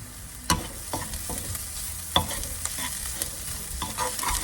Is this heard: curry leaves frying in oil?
yes